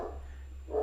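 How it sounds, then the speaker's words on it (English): A dog gives a short bark at the end, a brief burst rising over a steady low hum with quiet near-silence before it. "Sometimes with her, she just barks at nothing."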